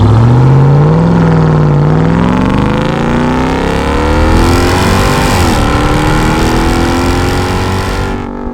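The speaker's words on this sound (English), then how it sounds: "the exhaust and supercharger sound absolutely amazing" A loud, throaty Ram TRX truck engine revs and rises in pitch, with a supercharger whine layered over the exhaust rumble, sustained throughout.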